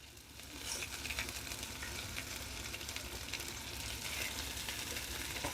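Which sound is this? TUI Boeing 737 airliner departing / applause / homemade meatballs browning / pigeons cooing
homemade meatballs browning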